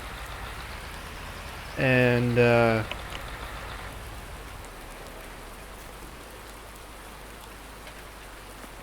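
Steady synthetic rainfall from Farming Simulator 19, a constant soft hiss throughout, briefly interrupted by a short spoken word near the start.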